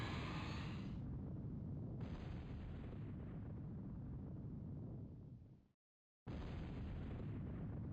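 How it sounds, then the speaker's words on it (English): Long-range artillery in the Total Annihilation strategy game fires with a deep, continuous roaring rumble, broken by short high hisses and a brief cut to silence before the booming resumes. "The roar of the artillery is just so good."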